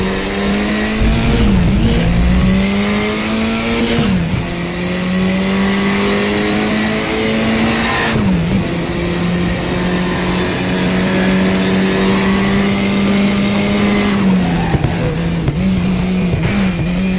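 KTM X-Bow racing around Laguna Seca in a racing video game, a loud continuous engine drone that climbs through the gears, dips on shifts and braking, then revs back up.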